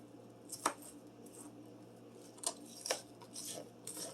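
A knife cutting onion on a board for chicken chilli, a few separate sharp chops and taps spaced over a few seconds, faint against a quiet kitchen.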